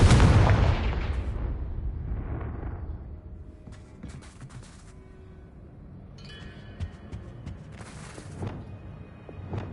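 Confringo fire spell from the video game Hogwarts Legacy, a loud booming blast at the start that rolls off into a rumbling tail, followed by fainter crackles and bursts of game effects.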